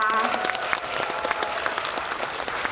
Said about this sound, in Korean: 박수로 한번 치고 가요.